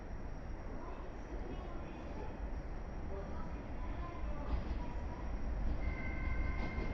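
A passing train runs through a Meitetsu station platform in Nagoya with a steady, fairly distant rumble of wheels and cars, the rushing noise swelling slightly toward the end; no announcement is heard over it.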